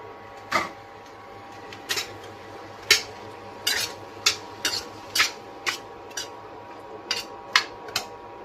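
Eggs go into a pan of curry spiced with coriander, cumin and ginger and are stirred, giving a series of sharp metallic clinks and scrapes at irregular intervals over a low steady hum.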